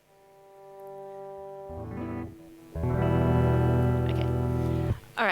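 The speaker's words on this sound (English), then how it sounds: "that's just the sound coming straight out of my guitar. There's no effects being applied yet" Clean electric guitar notes and chords with no effects ring out alone, starting softly and building to a louder sustained strum before cutting off near the end.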